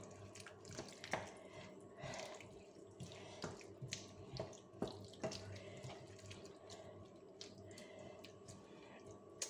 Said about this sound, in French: et je vais ajouter mon eau